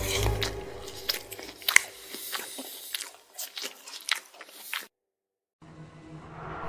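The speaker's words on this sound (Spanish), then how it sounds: "Acercó su boca y comenzó a masticarlo." Wet biting and chewing on flesh forms a horror sound effect of squishy crunches and smacking bites, irregular and close, followed by a brief silence and a low ambient rumble.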